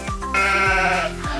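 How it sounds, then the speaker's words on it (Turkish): A sheep bleats in a single close, wavering cry that rises and falls, loud and clear on its own with no talk over it. "Koyun."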